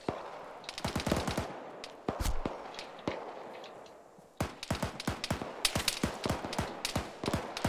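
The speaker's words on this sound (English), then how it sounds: "We're taking fire shots from the west." Sharp gunfire in a military shooter game, with bursts of rapid automatic shots and single cracks coming in irregular clusters, some close and loud, over faint background ambience, with no talking.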